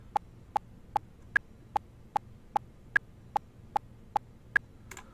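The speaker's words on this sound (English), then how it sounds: "We're going to generate a click track of 150 beats per minute" A click track at 150 beats per minute, generated in Audacity, plays a dozen sharp evenly spaced clicks over a quiet hum, with every fourth click pitched higher as an accent.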